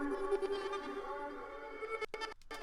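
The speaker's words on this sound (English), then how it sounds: "That's what the ARP sounds like." A reversed, low-passed sawtooth synth arpeggio playing in FL Studio: a soft, swelling tonal drone that ends in a couple of abrupt chopped bursts, faint and without voices.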